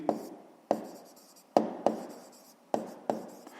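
Pen strokes scratch across paper in six distinct bursts, each a sharp onset fading away, spaced roughly half a second to a second apart, close and clear with no talking, while a sixth-grade math exercise is written out.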